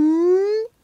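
A single voice imitates a DJ 'effects up' sweep, a short sung tone gliding steadily upward in pitch for well under a second, close and alone.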